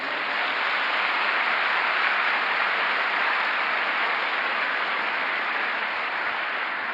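Continuous applause fills a church service, a dense, even wash of clapping that holds steady throughout with no voices on top.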